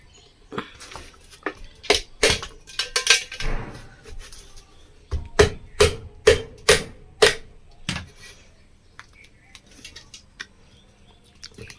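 Sharp tapping and cutting on the plastic base of a Preethi Xpro mixer jar comes as clusters of close, crisp knocks and clicks in irregular bursts with short pauses between them.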